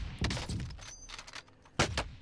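Several loud, close gunshots in the Call of Duty Warzone video game, sharp cracks in two quick clusters and a final isolated shot, from a sniper exchange.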